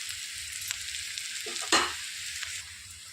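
Finely chopped green chilies fry in oil in a pan over a slow flame, a soft, steady sizzle with a brief louder crackle and a spoon stirring once or twice.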